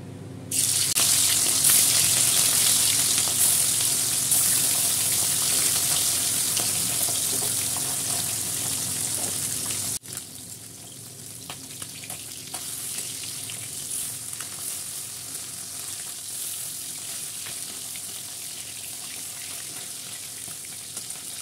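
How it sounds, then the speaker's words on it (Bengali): Whole puti fish frying in hot mustard oil, a loud, dense, steady sizzle close by that drops somewhat partway through and then continues more softly. "এবার এক এক করে সব মাছগুলোকে ভেজে নেব।"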